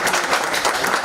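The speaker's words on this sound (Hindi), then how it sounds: "एक बार जोरदार तालियां कलकल जी से।" Loud, dense applause from an audience at a Hindi poetry recital, continuous clapping filling the whole moment.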